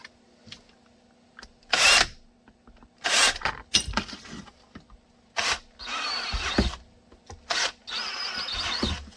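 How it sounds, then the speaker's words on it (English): A power drill bores through a handmade holster for an XD-S 3.3 pistol in short, close bursts of whirring, separated by gaps and small handling clicks. "I hold the drill against my body so you don't nick the other side."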